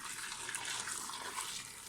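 Just-boiled hot water pours steadily from a kettle over chopped vegetables in a pot for a winter lecho salad, a continuous close splashing rush with no talking.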